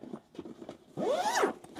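Zipper with locking sliders on a repaired bag: several short soft tugs, then one long smooth zip run up close, with light handling noise around it.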